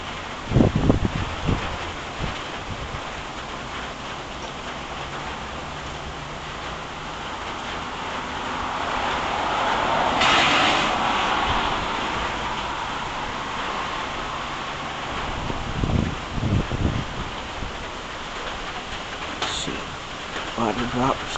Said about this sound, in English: So you can hear the rain.